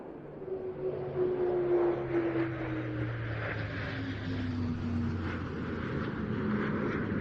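An Airbus A400M transport aircraft in tanker mode, with two Tornado jets behind its wings, drones steadily overhead at an air show, its engine tones slowly sliding downward in pitch against a broad rushing roar.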